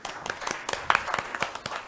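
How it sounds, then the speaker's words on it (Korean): Audience applause at a Korean financial investment forum, a short burst of scattered clapping from a seated crowd, steady and moderately close, with no talking over it. "박수 부탁드리겠습니다."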